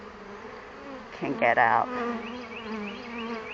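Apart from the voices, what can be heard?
honeybees buzzing during hive inspection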